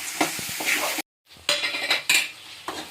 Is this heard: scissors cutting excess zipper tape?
no